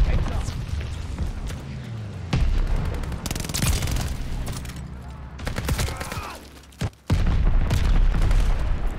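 A bomb blast and heavy gunfire in a Call of Duty: Vanguard multiplayer match, with loud booming bursts and rattling shots recurring throughout, a sharp cutout near the end, and a voice talking over the combat.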